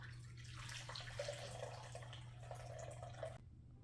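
Hot water for a bread recipe pours into a bowl in a steady, faint splashing stream that stops abruptly near the end, over a low background hum.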